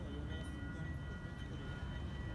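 A mountain lift heading down from Vitosha toward Sofia gives a steady, faint low rumble and hum, a continuous mechanical drone with no distinct events.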